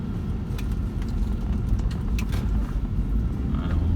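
A Toyota Prius 1.8 hybrid rolling over a potholed road, giving a low, steady road rumble with occasional light knocks and rattles from the cabin, fairly close and without talk.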